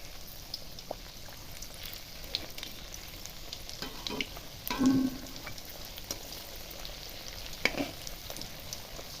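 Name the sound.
crispy egg snack frying in oil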